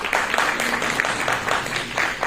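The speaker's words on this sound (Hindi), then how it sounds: "तालियों के साथ स्वागत" A roomful of people applauding to welcome a speaker at a poetry gathering and book launch, a steady patter of clapping at moderate volume indoors.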